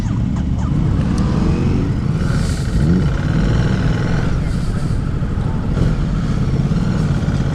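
A Ducati 950 Multistrada motorcycle is ridden with its engine droning loud and steady up close, together with heavy wind rush and a few slight swells in pitch as the throttle changes.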